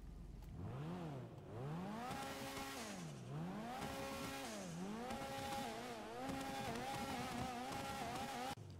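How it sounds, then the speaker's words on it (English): A sports car engine in GTA 5, a turbocharged Omnis, revs repeatedly, pitch sweeping up and down in several long swells before holding a high steady whine, loud and close with no talk. "I'll just rev this thing real quick."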